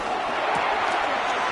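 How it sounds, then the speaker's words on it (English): A football stadium crowd at a Vikings game on third down roars steadily, a dense, continuous wash of massed noise with indistinct voices mixed in. "The crowd making their presence felt."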